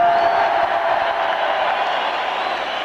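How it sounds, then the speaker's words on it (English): A boxing arena crowd roars and cheers in a continuous, dense wash of voices that fades slightly toward the end, with no single voice standing out. "I can't really hear you at all because the crowd is so wicked"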